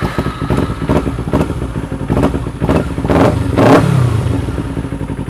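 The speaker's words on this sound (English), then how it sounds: "blue Kawasaki Ninja. Already got her all warmed up. She likes to whine." A warmed-up 2009 blue Kawasaki Ninja motorcycle idles loudly up close and revs in several sharp bursts, its high whining engine note swelling toward the end.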